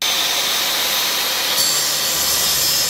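Power saw cutting a wooden board at a 45-degree angle: a loud, steady high-pitched whine of blade through wood, continuous and close throughout, no talk.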